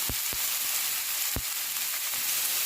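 Chopped vegetables sizzle in a little oil in a pan for khichuri. The frying is a steady, close hiss with a few sharp pops and crackles.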